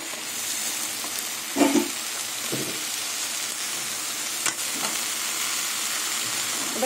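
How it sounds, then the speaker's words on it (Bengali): Pumpkin greens stir-fry in a hot pan, giving a steady close sizzle and hiss with a few scraping and clanking strokes of a spatula, no voices. "এবার কুমড়ো শাক দিয়ে কিছুক্ষণ নাড়াচাড়া করে দেবো।"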